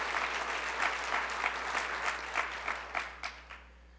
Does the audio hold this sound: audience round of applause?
yes